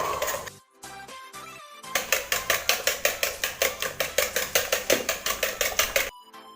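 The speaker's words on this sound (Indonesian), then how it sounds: "Nah, setelah kita adonin semua ini, kita aduk ya." A spoon rapidly stirs sweet potato batter for kue lumpur in a bowl, a steady run of quick rhythmic clinks and scrapes after a few separate knocks, close and clear with no talking.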